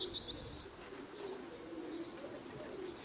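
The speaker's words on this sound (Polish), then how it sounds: "Widzimy te gołębie sobie tutaj." Soft, low pigeon cooing repeats at a gentle rhythm, with a few high bird chirps above it, fairly quiet and outdoors.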